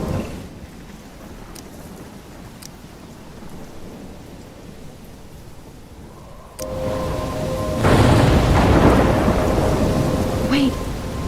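A thunderstorm with rain rages in the video game Life is Strange, steady rainfall hissing throughout before a loud rolling thunderclap swells midway and builds into a heavier, louder downpour, with no talking.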